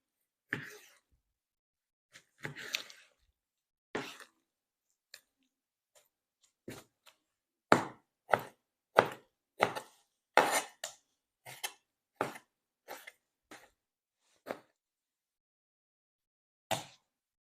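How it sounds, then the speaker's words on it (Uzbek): A knife chopping cleaned liver into squares on a board, crisp separate chops, sparse at first, then a quicker irregular run of close cuts with pauses between. "Endi buni to'rtburchak qilib kesib olamiz"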